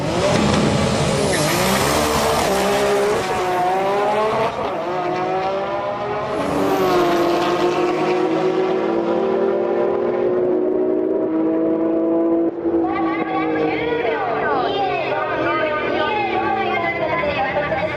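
Nissan Skyline GT-R R33 running HKS 3037S turbos at a drag race, its engine loud and close as it revs hard through rising gear pulls with brief shift breaks, voices chattering underneath.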